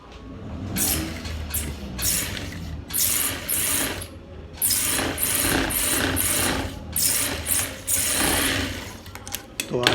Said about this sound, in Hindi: अभी हम ऐसे इसको रख के इस पर सिलाई करेंगे